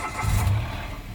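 A manual 2016 Mitsubishi Mirage GLX engine cranks and catches in a brief, loud start, its low rumble close and steady with no talk over it.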